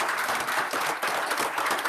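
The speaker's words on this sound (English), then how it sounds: "we want to give a round of applause to Lily Fairchild from McGraw." An audience at a public hearing and monthly board meeting gives a brief, steady round of applause, dense clapping from many hands with no talking over it.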